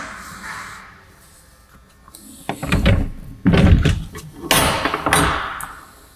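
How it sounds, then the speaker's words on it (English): A door fitted with a wireless door sensor is opened and closed, with several close, loud thumps, bumps and rattling knocks over a few seconds. "open and close the door"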